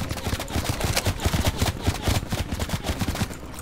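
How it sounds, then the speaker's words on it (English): Gunfire in the video game Call of Duty: Cold War, with loud, rapid bursts of automatic shots and scattered single cracks close by, filling the whole stretch without talk. "Where am I getting shot from?"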